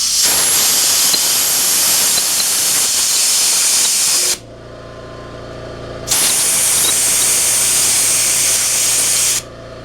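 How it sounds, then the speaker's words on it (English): Compressed air blasts through small engine parts during a Briggs and Stratton engine cleanup, sounding as two loud, steady hissing bursts, the first about four seconds long and the second about three, with a quieter pause between them and no talking. "We'll just use some compressed air."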